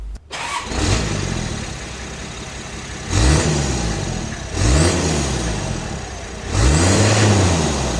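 A Nissan Patrol with a twin-turbo TD42 diesel engine revving: a starter crank, then a rumbling idle broken by three strong rev-ups that rise and fall back, loud and close.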